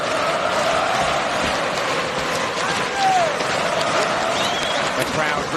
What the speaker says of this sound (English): The crowd really getting behind their man here at the Ericsson Globe Arena.